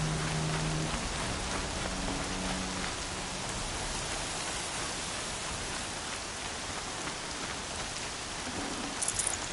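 Steady rain falls in the video game Horizon Zero Dawn, a dense, hissing patter on surfaces, with a few brief low tones at the start and a couple of drips near the end.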